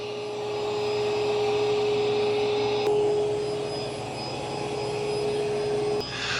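An ECOVACS DEEBOT N20 Plus robot vacuum cleans carpet with a steady, loud whooshing suction drone and a constant high tonal whine, with small shifts in pitch as it turns.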